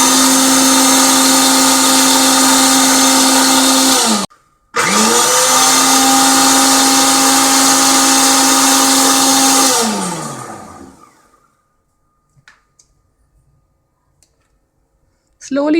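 An electric mixer whips cream into butter with a loud, steady motor whine that stops briefly, restarts, then winds down to silence.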